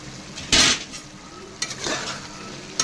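A spoon stirring chilli powder into a Telangana-style goat head curry frying in a pan, a few sharp scraping strokes against the metal over a low sizzle, close and without talk.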